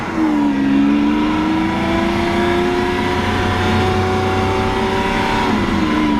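A Lamborghini Aventador Roadster Pirelli edition drives along with a loud, steady engine drone whose pitch rises and falls slightly, close and continuous, with no talk.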